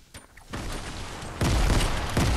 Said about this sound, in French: Oh putain, ça lance des grenades.